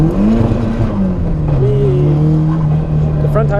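A Nissan S13 being driven hard on a track for drifting, its engine droning steadily close to the mic with a shifting pitch and occasional tire noise, loud throughout.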